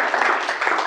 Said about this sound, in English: How about a round of applause for Thank Jerry?